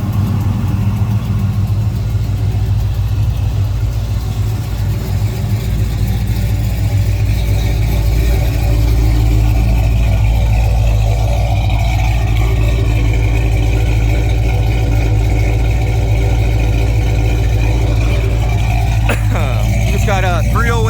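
A 1955 Chevrolet Bel Air with a fresh 355 V8 and Flowmaster exhaust rumbles at a steady, deep idle close by, with a slight rise in revs partway through and a brief mechanical clatter near the end.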